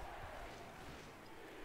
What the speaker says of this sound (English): Right now the crowd's yelling defense